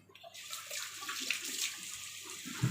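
Running tap water splashes steadily while quail meat is rinsed after steaming in boiling water, fairly close and soft, ending with a louder splash.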